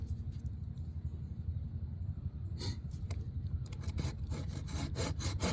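A SOG folding saw cuts through firewood at an outdoor winter campsite, with steady rasping strokes that grow sharper and more rhythmic toward the end, close and fairly loud.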